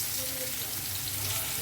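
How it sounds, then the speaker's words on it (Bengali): Chopped onion frying in oil with cardamom and cinnamon, making a continuous soft sizzle with a faint low hum underneath, short and steady. "পেঁয়াজটা আমি হালকা করে ভেজে নেব"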